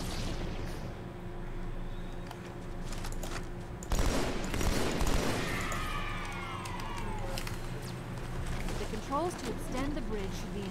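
A frag grenade explosion and surrounding gunfire in Halo 2 multiplayer, with a sudden loud blast around the middle amid scattered shots and whooshing effects, while a player talks over the game audio.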